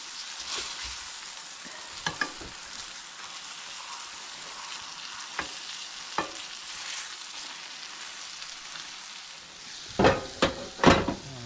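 Deer heart searing in a pan with a continuous close sizzle and hiss, broken by a few isolated utensil taps and a quick cluster of louder clatters as the meat is flipped near the end.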